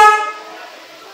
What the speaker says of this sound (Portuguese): Buzina, funcionando.